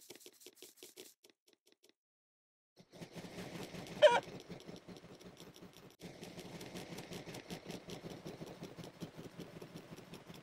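Chickens cluck in a Peppa Pig video game, a busy run of short repeated clucks over a game backdrop, with one loud sharp squawk standing out briefly before the clucking carries on steadily.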